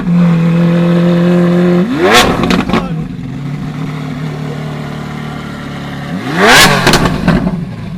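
A Lamborghini Aventador S supercar engine idles steadily, then revs hard twice with rising, rasping bursts, the second rev near the end loudest, close by and without talk.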